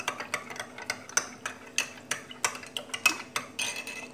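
A spoon stirs baking powder, sugar, salt and oil in a bowl for pizza dough, giving steady rhythmic clinks against the side, about three per second, close and clear with no speech.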